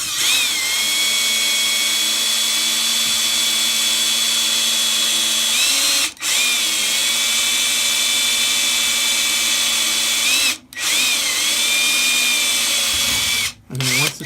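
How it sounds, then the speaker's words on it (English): A power drill drilling a hole into a penny whines steadily at high speed, with a few brief dips where it slows or stops, close and loud throughout. "You drill the hole in at the same angle as the coin is"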